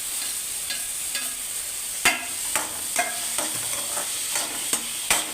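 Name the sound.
sautéing and stirring in a pan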